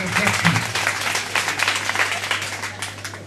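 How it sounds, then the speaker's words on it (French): Parents applauding at a student association gathering from Mandegane, a short burst of brisk clapping from a small group, fairly close and steady throughout. "les parents ont applaudi."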